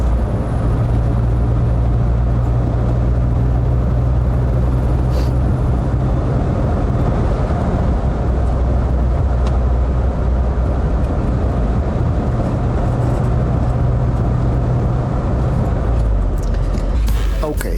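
A 1989 VW Golf 1 Cabriolet with a 1.6 engine drives along at steady speed, its engine and road noise forming a loud, continuous low rumble that shifts near the end.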